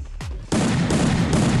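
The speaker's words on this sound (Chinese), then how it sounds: "散弹枪声音变了" Shotgun blasts in the mobile battle-royale game Free Fire: a sharp shot, then a denser burst of loud firing that fills the rest of the brief moment.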